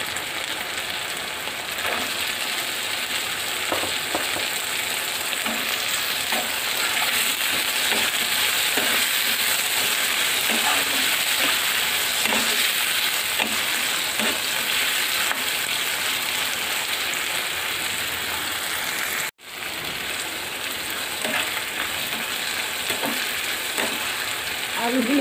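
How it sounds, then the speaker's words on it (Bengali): Potatoes fry with shrimp and onions in hot oil, a loud, continuous close-up sizzle broken by the scrape and clink of stirring, with one abrupt pause near the end before the sizzle resumes. "আলু দিয়ে দিয়ে আমি দুই তিন মিনিট নেড়ে চেড়ে ভেজে নিয়েছি"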